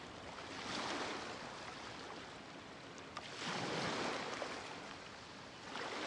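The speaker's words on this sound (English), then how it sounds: "Waves are as calm as always." Calm ocean waves in Genshin Impact wash in soft, slow swells, two gentle surges rising and falling over a steady hiss of water and breeze, with no talking.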